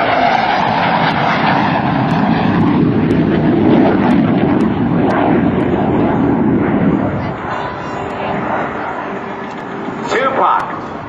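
Jet roar from an F/A-18C Hornet with twin GE F404 engines on a high-speed pass at a naval air station airshow, a loud broad rumble that swells and then eases away, with a commentator talking over it throughout.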